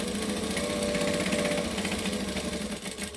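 A sewing machine runs steadily while back stitching the long edge of fabric, a close, continuous motor whir with a fast needle rhythm and no pauses.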